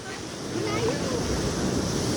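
Steady wash of surf rolling onto Kasay Beach, with wind buffeting the microphone throughout.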